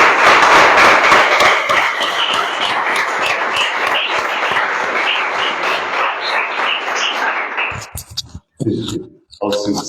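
A church congregation at a teaching service claps together for about eight seconds, dense rhythmic hand claps close and loud, then a few scattered claps and thumps after the applause dies away.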